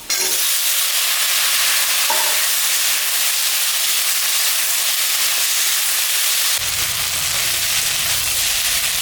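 Elephant foot yam and potato pieces frying with onion in hot oil, producing a loud, continuous sizzle that hisses evenly throughout, with a brief clatter near the start and a deeper rumble toward the end as stirring begins.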